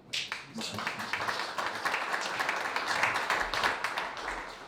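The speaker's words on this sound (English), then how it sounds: "Round of applause for them as well." An audience at a museum book presentation gives a round of applause, a fairly close, dense burst of clapping that holds steady for several seconds with a few louder individual claps.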